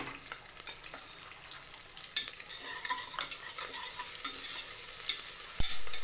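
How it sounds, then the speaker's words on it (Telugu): Ginger garlic paste fries in oil in a pan for a chickpea pulao, a steady close sizzle broken by repeated scraping and stirring of a spoon against the metal, with no voices. "దాంట్లో కొంచెం అల్లం వెల్లుల్లి పేస్ట్ వేసుకోవాలి, 1 చెంచా."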